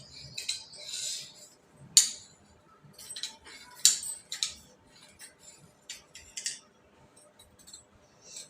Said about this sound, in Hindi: इतनी महंगी साड़ी का ये ब्लाउज की कटिंग हो रही है